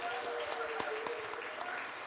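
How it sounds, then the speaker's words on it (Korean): Audience applause welcoming a speaker at a political committee launch event, faint and distant with scattered hand claps over a low background hum. "나오실 때 큰 박수로 맞이해 주시기 바랍니다."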